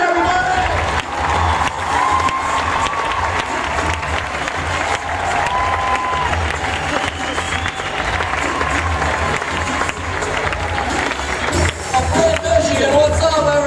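A stand-up comedy crowd bursts into sustained cheering and applause as comedian John Crist walks on stage, a dense, loud wash of clapping and whoops that continues for over thirteen seconds with shouts rising near the end.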